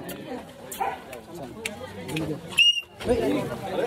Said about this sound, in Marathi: श्वान श्वान